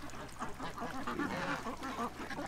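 A group of ducks quacks continuously close by, a busy overlapping chatter of calls with no pauses.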